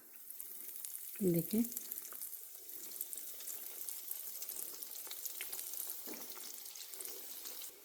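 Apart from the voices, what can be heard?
chicken half moon pies frying in medium-hot oil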